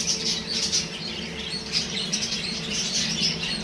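Excited baby pet birds chirp and squawk continuously at close range, a busy run of bright overlapping calls with some faint wing flutter, no voices.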